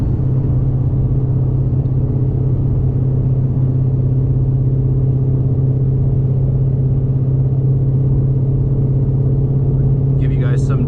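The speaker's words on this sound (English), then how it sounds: "Just the sounds of the blower" A 750 hp supercharged Mustang GT cruises with a loud, steady low engine drone and blower whine, holding an even tone until a brief rise at the very end.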